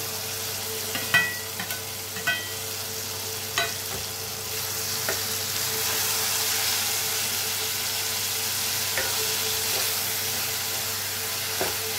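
Dried fish fries in a pan for dry fish curry, a steady sizzle that swells louder partway through, with several spatula clinks and scrapes early on and no talking.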